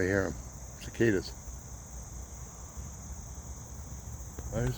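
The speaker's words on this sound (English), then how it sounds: "You can definitely hear them. Cicadas." Cicadas drone in a park as a continuous high, buzzing whine that holds steady throughout, while brief bursts of nearby voices break in at the start, middle and end.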